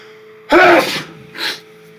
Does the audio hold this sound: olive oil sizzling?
no